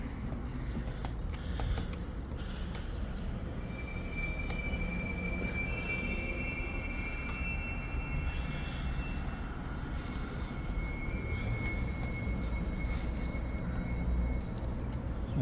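An Otis hydraulic elevator in a Fort Worth plaza building runs with a steady low rumble and a faint high squealing whine drifting through, continuous and moderately quiet, with no voices.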